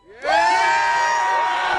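A crowd gathered at a live outdoor rally for the First Amendment on the JFK 50th anniversary, November 2013, breaks into loud sustained cheering and whooping that swells suddenly and holds steady.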